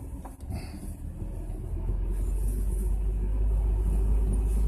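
A four-wheel drive vehicle drives along a snowy mountain trail, its deep engine rumble and low road drone building steadily and staying close, with no talking.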